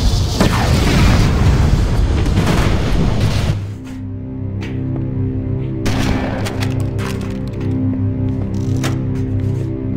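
A heavy explosive blast of reactors in the game Halo: Combat Evolved, with crackling, gunfire-like bursts for several seconds, then a deep steady rumble with scattered sharp bangs and debris.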